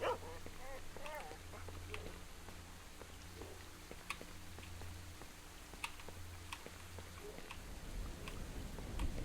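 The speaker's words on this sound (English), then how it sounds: "The dogs that are now getting straight for me." Dogs barking and yelping in the S.T.A.L.K.E.R. video game (Shadow of Chernobyl, OGSE mod), several short barks over a low steady hum, with some game-world ticks and clicks.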